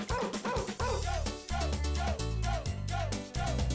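A song blasts as entrance music for a fighter in an early-2000s MMA video game, a loud, steady, bass-heavy pop beat with punchy barking-style vocal hooks running without a break.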